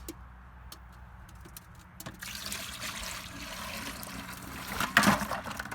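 Maple sap gets poured from tree-tapping buckets into a clean 5-gallon pail outdoors: a few knocks and handling clicks, then a close, rushing pour of liquid splashing into the pail, growing louder near the end.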